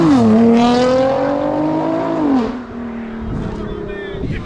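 Two street-racing cars, a Nissan GT-R and a Camaro ZL1, launch hard off the line in Chicago, engines screaming up through the revs with a gear change midway, loud and close, fading slightly as they pull away.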